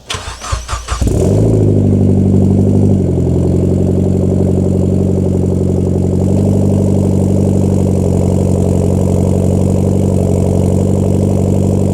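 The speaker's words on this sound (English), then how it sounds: "let's get to the cold start" A car engine cold-starts with a brief churning crank, catches within about a second, then settles into a loud, steady, close idle with a deep even hum that runs uninterrupted to the end.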